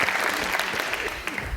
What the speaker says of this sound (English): Give Richard a clap.